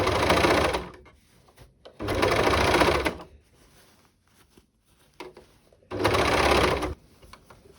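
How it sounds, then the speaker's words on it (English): An overlocker finishes the inside seams of a shirred elastic summer dress in three loud, close bursts of rapid whirring stitching, each about a second long, separated by quiet pauses with light handling sounds. "I am going to take great pleasure in overlocking this and getting rid of all of these ends"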